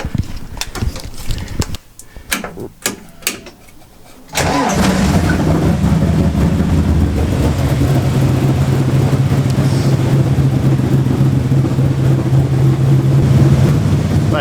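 A speedway race car engine cranks with a few sharp bursts, then catches and settles into a loud, steady idle that runs close and continuous to the end.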